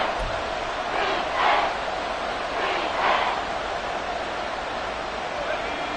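Football stadium crowd late in a game near the goal line, a broad steady roar of noise with two brief swells of louder yelling rising out of the din.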